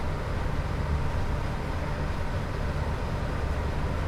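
A train running on the West Coast Main Line between Preston and Carlisle in Train Sim World 5, a loud, steady rumbling roar that stays constant throughout.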